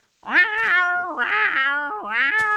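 A female cat in heat caterwauls in three long, drawn-out yowls that rise and waver in pitch, loud and close, with no voices over them.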